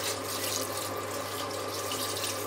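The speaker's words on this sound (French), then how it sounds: "Alors maintenant, je mets 1 litre d'eau." A litre of water poured into a tagine pot, giving a steady, full, continuous rush of liquid close by, with no talk.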